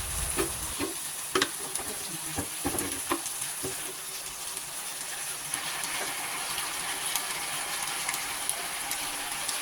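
A spoon stirring a cornstarch-thickened sauce with water and liquid seasoning in a hot pan, steady sizzling throughout with a few sharp scrapes and clinks early on.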